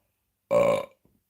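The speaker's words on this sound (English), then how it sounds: "Where else can you burp on a live stream and get away with it?" A single loud, throaty burp lasting about half a second on a live stream, followed by silence.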